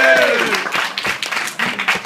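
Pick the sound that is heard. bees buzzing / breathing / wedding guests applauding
wedding guests applauding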